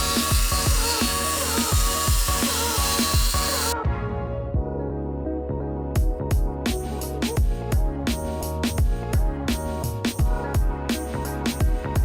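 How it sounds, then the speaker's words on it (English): A power tool cuts away metal inside a camper van during a shower build, first a continuous high whine, then a series of short repeated bursts of cutting with brief pauses between them. "So we're just gonna leave it there and try and cut away some of this metal"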